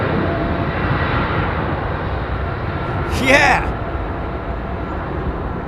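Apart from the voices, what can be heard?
aircraft engines spooling up at London Heathrow Airport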